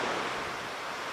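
Deep-water surf at Jungmun Beach on Jeju's south coast, where waves run high and rough, rolls in as a steady, loud wash of broadband noise with no voices.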